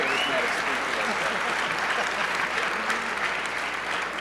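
Audience applause at an awards ceremony and luncheon, steady sustained clapping from a large crowd filling the room, even in loudness throughout.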